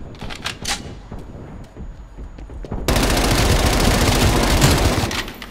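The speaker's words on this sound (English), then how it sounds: "I'm more than happy with a submachine gun." Submachine gun fire comes from the zombies mode of the video game Call of Duty: Black Ops Cold War. Scattered shots and game sounds give way to a loud, sustained burst of rapid automatic fire.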